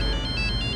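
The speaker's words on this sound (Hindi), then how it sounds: "करण का फोन" A mobile phone ringtone plays loud and close, a steady melodic electronic tone with no voices over it.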